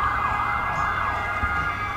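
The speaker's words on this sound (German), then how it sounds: "da kommt ein Krankenwagen." An ambulance siren wails steadily at moderate distance on a busy square in Paris, a continuous tone over low traffic rumble with no talk.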